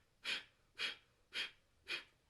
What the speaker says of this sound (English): we are going to be breathing in and out of the nostrils, and the focus is going to be on the exhalation